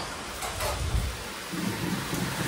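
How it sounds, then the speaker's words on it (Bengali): Heavy rain pours down steadily in a dense, even wash, with low rumbling underneath, continuous throughout and with no voices. "বেশ জোর বৃষ্টি হচ্ছে।"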